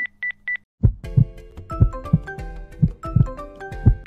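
Three short dialing beeps in quick succession, then a brief pause and a rhythmic melodic tune with steady low thumps.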